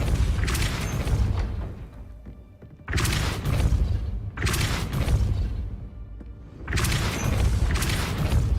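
A Depulso spell in a wizard video game lands as four heavy, booming blasts at uneven intervals, each with a rumbling tail that fades before the next hit.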